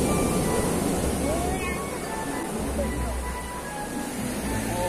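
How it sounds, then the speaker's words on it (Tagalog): Large waves rolling onto a seashore while fishermen work nearby, a steady loud roar of surf with a continuous rumbling wash and no pauses. "Ito, laki ng alon."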